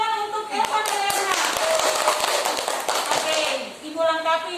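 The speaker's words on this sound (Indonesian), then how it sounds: "tepuk tangan untuk Eva dan Erna" Students clap in a classroom for two classmates, a patter of hand claps running under a teacher's voice and children's chatter throughout.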